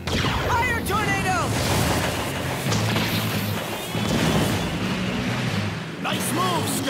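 Fire Tornado ability attack in the Bakugan cartoon: a loud, continuous roaring blast with crashing impacts and whooshing swells, filling the whole stretch, with voices talking over the effects.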